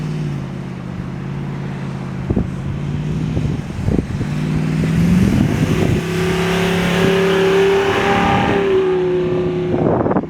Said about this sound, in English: I can kind of drive through the sand here and get out of the track just for fun